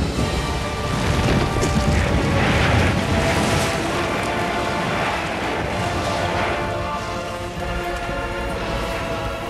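Atlantis collapses and sinks in God of War: Ghost of Sparta: a dense, continuous roar of crashing, rumbling debris and heavy impacts, loud and sustained throughout with no pause.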